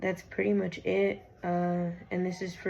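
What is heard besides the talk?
No distinct noise like a dog, phone or traffic.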